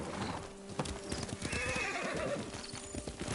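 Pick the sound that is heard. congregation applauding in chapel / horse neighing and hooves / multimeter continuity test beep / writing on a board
horse neighing and hooves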